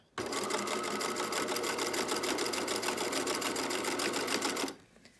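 A sewing machine runs a short burst stitching swimsuit binding, presser foot guided down the binding's centre: a close, rapid, evenly pulsing whir starting abruptly and stopping just before the end.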